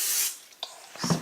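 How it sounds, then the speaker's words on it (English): Cooking oil sprayed from a can onto washed pumpkins: one short hissing burst up front, followed by a couple of faint taps and a soft wet spritz, quiet and close. "Spray them with the cooking oil."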